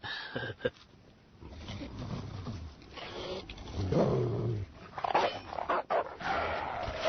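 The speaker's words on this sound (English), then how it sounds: "stupid dog." A dog makes low, rumbling growls mixed with a few yips, fairly close, while traffic noise and a little background chatter carry on underneath.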